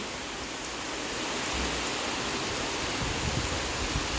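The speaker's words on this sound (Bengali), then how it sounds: "কি ভালো লাগছে বৃষ্টিটা দেখতে" Rain falls steadily, giving a broad, even hiss of drops on surfaces that grows a little louder midway and continues without pause, with no voices.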